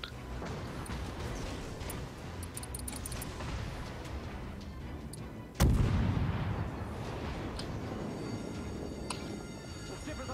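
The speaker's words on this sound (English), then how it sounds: "so we're just gonna give him some torpedoes" Torpedoes launched at an enemy ship in World of Warships, heard as a sudden loud boom partway through that trails into rumbling battle noise, over a constant background of distant gunfire and engine drone.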